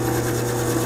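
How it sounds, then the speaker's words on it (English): A small brass wire brush spins slowly on a drill press, scrubbing old paint and crud from Mosin Nagant rifle metal, giving a steady, even whirring hum with a faint scratchy rub throughout. "I'm using my little brass brush here on the drill press, just slow."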